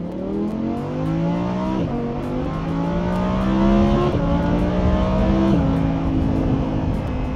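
Lamborghini engine revved hard in neutral, heard from the passenger seat, a loud steady roar whose pitch climbs in several rising sweeps, each dropping back before climbing again.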